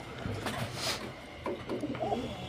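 Pigeons with white eyes coo softly at a bird market, a few faint, low, rolling calls mixed with light rustling and brief background voices.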